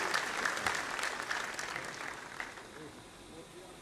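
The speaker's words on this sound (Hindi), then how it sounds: "एक बार जोरदार तालियों से उनका स्वागत और अभिनंदन।" Audience at a civic welcome ceremony for the President in Lucknow breaking into loud applause for a guest, dense clapping that gradually tapers off toward the end.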